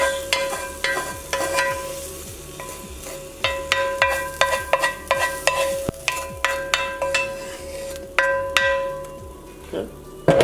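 Israeli couscous cooks in a pot while a spoon stirs it in regular scraping strokes, with light sizzling underneath and a steady hum in the background.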